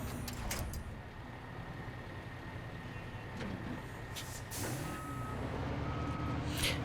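Heavy diesel rumble of a Caterpillar 745C articulated hauler driving in an Xbox One game around Pedro Bay, a continuous low engine drone with occasional clunks and a brief rising whine, no talking.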